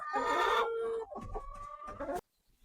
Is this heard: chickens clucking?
yes